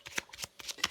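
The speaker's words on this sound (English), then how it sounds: "I just shuffled till I'm guided to stop." A deck of cards is shuffled up close in several quick riffling bursts, each a crisp papery flutter separated by short pauses, with no talking.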